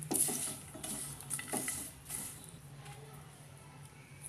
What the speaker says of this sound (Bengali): 2 মিনিট ভালোভাবে নাড়াচাড়া করে নেব।